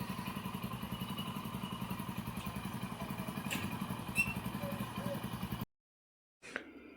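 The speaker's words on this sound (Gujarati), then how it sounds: "એન્જિનને રાઉસ કરવા ચાલુ મૂક્યું છે" A Hero Deluxe motorcycle engine runs steadily after being newly fitted, a close continuous idle chug with faint clatter that cuts out near the end before a brief thump.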